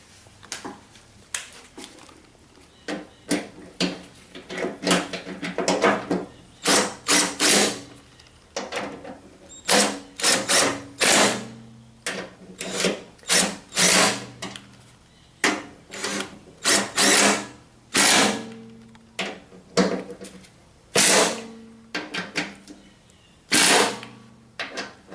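A power driver runs bolts into a spindle pulley on a Cub Cadet Z-Force S 48 mower deck in a series of short, close whirring bursts separated by pauses.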